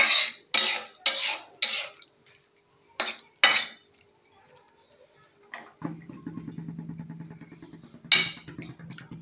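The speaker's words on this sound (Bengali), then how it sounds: "পানি দিয়ে সুন্দর করে নাড়াচাড়া করে নিল।" A utensil scrapes and clinks against a pot as tengra fish curry with water is stirred, with bursts of rhythmic scraping, then a steadier bubbling, clattering stir near and moderately loud.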